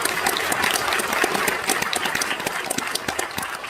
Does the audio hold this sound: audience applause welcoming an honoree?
yes